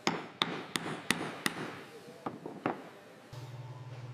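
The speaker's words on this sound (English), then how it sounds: "A light hammering ensures the bond is tight before the final stitch." Light hammer taps on joined leather wallet panels in a luxury leather workshop: about nine sharp, separate knocks spaced irregularly, followed by a low steady machine hum near the end.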